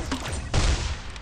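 A gun fires in the shooting game Pixel Gun 3D: a quick loud burst of close shots with a heavy low thump in the middle, over in about a second.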